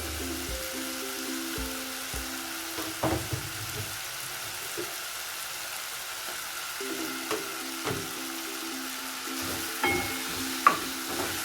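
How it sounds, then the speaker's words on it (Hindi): Capsicum sizzles steadily in a frying pan while being stirred, with scattered scraping knocks from the utensil over a continuous fry; no voices. "इसको अच्छा सा हम फ्राई कर लेंगे।"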